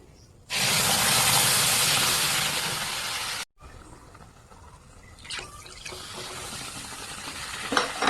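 Milk poured onto fried semolina in a pan for a sweet, a loud steady hissing rush that starts abruptly, runs about three seconds, cuts off, then gives way to quieter bubbling and a few soft clinks.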